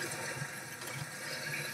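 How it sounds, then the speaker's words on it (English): Water sloshing and splashing in the horror game Amnesia: The Dark Descent as a character sprints through a flooded area, a steady broadband wash of liquid noise heard alone for the whole stretch. "Just sprint through the water"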